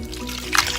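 Chilled ice water trickles and splashes briefly over butter during hand washing, a close, steady liquid pour lasting under a second.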